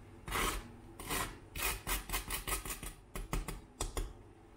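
Crispy toast filled with minced meat crunches close up as it is handled and pressed, a series of dry crackling bursts in an irregular rhythm, with no talk over it.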